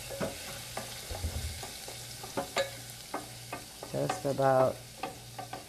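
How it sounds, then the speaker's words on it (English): Freshly pressed garlic sautéing lightly in hot oil in a pan for an Italian pasta with tuna sauce, a soft sizzle broken by frequent clinks and scrapes of a utensil stirring, with a louder rustling burst near the end. "you don't want to burn the garlic, you just want to kind of saute it very lightly"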